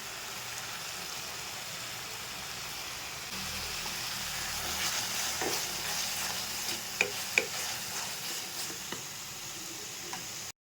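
Powdered spices including Kashmiri chilli, red chilli powder, turmeric, salt, cumin and coriander cooking down with ginger-garlic paste for an egg curry, giving a steady soft sizzle with occasional stirring clicks and scrapes; no one talks.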